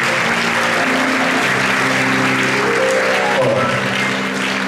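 An audience at a live stage show applauds a performer's assistant, sustained dense clapping at steady volume with faint background voices mixed in.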